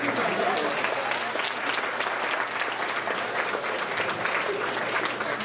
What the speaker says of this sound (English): Speaking of that cheering and that round of applause